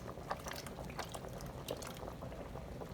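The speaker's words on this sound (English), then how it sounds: "we're gonna keep stirring so it blends well" Milk is stirred into a cream of mushroom casserole mixture in a home kitchen, giving a continuous soft, wet bubbling and sloshing at low volume with faint clinks, and nobody speaks.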